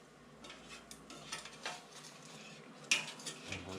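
Fried chicken being flipped in an air fryer basket, with a series of light metallic clicks and scrapes of tongs or utensils against the tray, a faint sizzle beneath, close and quiet.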